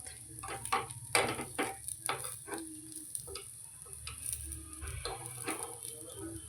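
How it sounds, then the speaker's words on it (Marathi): Rice appe batter frying in an appe pan, a soft steady sizzle with scattered ticks and clinks of a utensil against the metal, close by with no talk. "दोन्ही बाजूने व्यवस्थित असे फ्राय होऊ द्यायचे आहेत"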